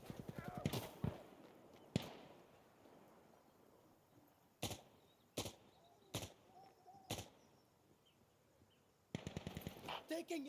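Sharp gunshots ring out in an online match of Insurgency: Sandstorm on Xbox Series X, first a rapid burst, then isolated single shots spaced across the middle, and a final quick volley near the end, with quiet ambience between them.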